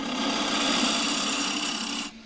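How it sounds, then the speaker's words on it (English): A shear scraper held flat on the tool rest cuts a large crossgrain wooden box on a lathe, giving a continuous close, loud hissing scrape over the spinning wood that stops abruptly near the end. "So it's just using my shear scraper flat on the rest"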